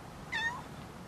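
A full-grown cat gives a single short, fairly faint meow against a steady background hiss.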